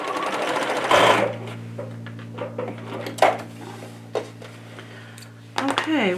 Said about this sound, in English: I'm going to stitch that on the other side